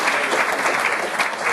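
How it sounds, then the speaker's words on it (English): An audience applauding at a special education summit, a dense, loud burst of clapping filling the whole short moment with no gaps. "Give him a round of applause."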